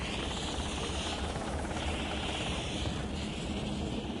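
A rescue helicopter's rotors and engine roar loudly and steadily throughout, a dense continuous whir with no break or talking.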